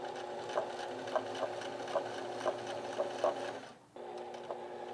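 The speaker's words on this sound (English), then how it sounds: "Now stitch this collar down onto the shirt." A sewing machine stitches a collar onto a shirt, running in an even, rapid whir with regular ticking beats, briefly pausing near the end before starting up again.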